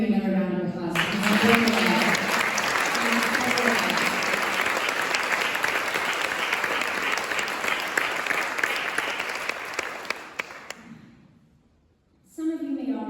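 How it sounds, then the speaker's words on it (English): An audience applauds the speakers at a Mental Health Month kickoff event, with dense, sustained clapping for about ten seconds that fades out near the end. Talking is heard before and after the clapping. "And I just want to give you another round of applause."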